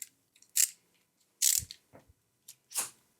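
A 12 mm ratchet wrench loosens a nut on a Royal Enfield Classic 350 motorcycle during a saddle bag install, giving a few separate, close clicking bursts with gaps between them.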